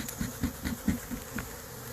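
Honey bees buzz steadily around an open hive, a dense close hum with faint pulsing taps and no talk.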